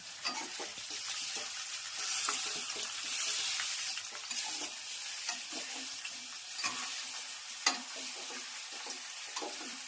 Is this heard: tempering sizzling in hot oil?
yes